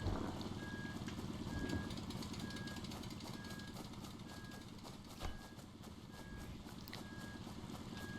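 An RV engine running steadily while the vehicle sits in river water, a low continuous rumble with a faint regular ticking over it, fairly quiet and unbroken.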